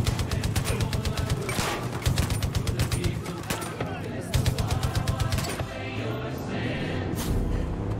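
Automatic gunfire in the shooter game Far Cry 5: long rapid bursts of shots, loud and close, repeating with brief gaps, then fading into a lower sustained rumble at the end, with a voice speaking over it.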